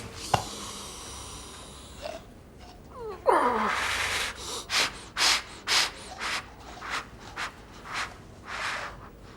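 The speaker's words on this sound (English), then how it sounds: "He pulled out his oxygen mask," A man with failing lungs pulls off his oxygen mask and gasps for air in a film scene: a sharp strained intake followed by a rapid series of ragged, rhythmic breaths, fairly quiet.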